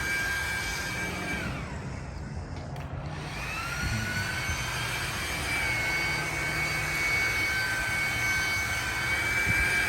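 A lightweight battery leaf blower clearing a lawn at a rental home, a continuous whooshing whine that dips briefly then holds steady and fairly close.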